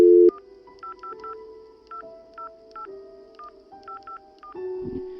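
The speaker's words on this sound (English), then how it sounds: "he grabbed phone and called agent" Touch-tone beeps of a telephone number being dialed, about a dozen short evenly spaced tones at varying pitches, set between a longer tone at the start and another at the end, clear and alone.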